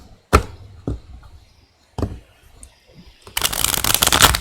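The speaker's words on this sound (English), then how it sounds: "Let me shuffle a couple of times in the wrong direction." Tarot cards being shuffled give a few sharp slaps and taps spaced apart, then a dense, riffling burst of card noise, close and fairly loud, with no voices.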